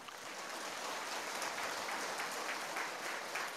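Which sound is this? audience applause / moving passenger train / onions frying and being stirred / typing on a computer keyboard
audience applause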